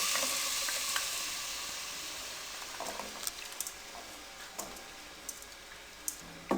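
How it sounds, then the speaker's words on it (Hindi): Finely chopped capsicum fries in a pan over a low flame, giving a soft, steady sizzle. Light scraping and clicking stirring strokes grow more frequent toward the end. "अब इसको हम फ्राई करेंगे।"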